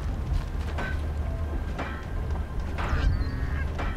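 Geese in Horizon Zero Dawn honk in a few short, loud calls spaced over a few seconds, heard close against a low ambient rumble with no talking.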